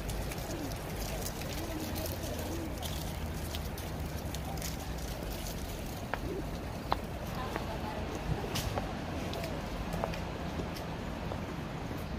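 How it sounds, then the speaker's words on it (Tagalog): Pigeons coo softly in Tai Wai Park, Hong Kong, amid a steady outdoor wash of ambient noise, with scattered faint clicks and background voices. "Ayan guys, daming kalapati dito"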